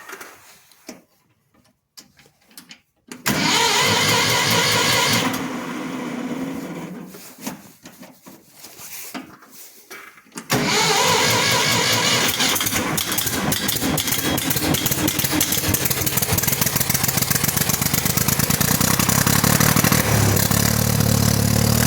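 An old 3000 tractor engine with a flooded carburettor cranks in short bursts, catches briefly, then starts and settles into a loud, steady, rapid chugging idle that runs on alone.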